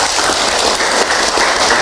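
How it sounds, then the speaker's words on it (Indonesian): An audience at an Islamic religious talk claps steadily in a dense burst of applause, loud and close, with no voices standing out. "Tepuk tangan buat kita semua."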